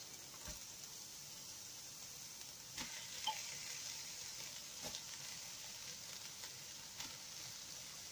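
Rice being fried in a pan at home for fried rice, giving a steady soft sizzle throughout with a few faint scrapes and clinks of stirring, fairly quiet and without talk.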